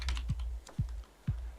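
Three soft, evenly spaced keystrokes tap on a computer keyboard, close and quiet against a faint background hum.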